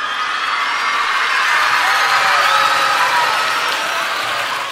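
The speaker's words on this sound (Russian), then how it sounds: "Аплодисменты, аплодисменты, камрады!" Studio audience applause opening a talk show, a dense, continuous wash of clapping with some cheering and whoops mixed in, loud and sustained, swelling slightly before easing off.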